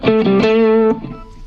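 A Stratocaster electric guitar runs through a bright, echoey Lava Studio effects preset with the tone turned fully up. It rings out as a sustained chord with a short echoing tail, loud and close, and no one speaks over it.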